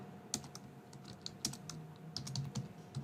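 Keys clack on a computer keyboard as a name is typed into a form field, an irregular run of close, crisp taps over a quiet background hum, with no talk.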